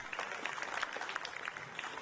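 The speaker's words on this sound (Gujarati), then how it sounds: "તાળીઓથી સૌને વધાવીએ" A seated crowd at a Vaishakhi Buddha Purnima gathering in Mithapur Dungri claps together, a brisk, even patter of many hands heard from within the audience and lasting without a break.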